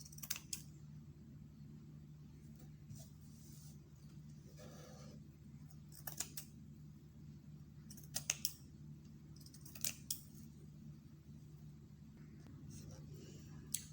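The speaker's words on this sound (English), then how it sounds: "You can see I've cut the net round." Scissors snip around a round piece of net for a fascinator, faint close clicking cuts in short scattered bursts over a quiet steady hum.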